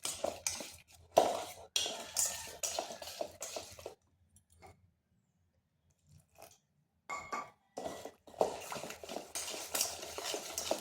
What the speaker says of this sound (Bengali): আর এটাকে বেশ কিছুক্ষণ কিন্তু ফেটিয়ে নিতে হবে।